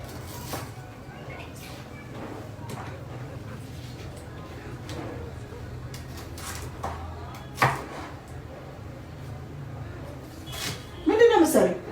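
A knife chops onions on a board in a home kitchen, faint scattered taps spread across the stretch with a few louder knocks, mostly under ongoing conversation between people.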